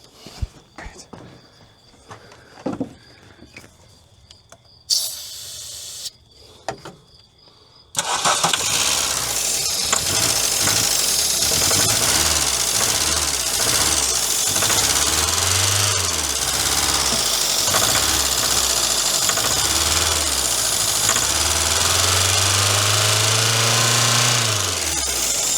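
Old Volkswagen engine, stored for 18 years, cranking and catching after quick start, then running rough and loud with uneven revving; footsteps and a voice come before it fires.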